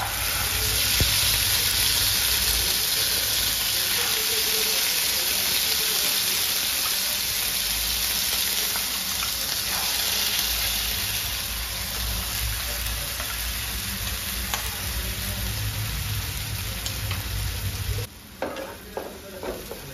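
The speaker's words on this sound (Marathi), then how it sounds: "हे वाटण परतून घ्यायचं आहे" Ground masala paste sizzles and is stirred in a spoonful of oil in a kadai for a hotel-style paneer gravy. A steady, loud frying hiss runs throughout with scraping stirs, then briefly breaks up near the end.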